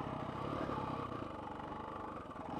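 A dirt bike engine labors up a rock hill on the trail in Moab, Utah, its steady mid-range drone and clatter heard at some distance, fairly faint and continuous.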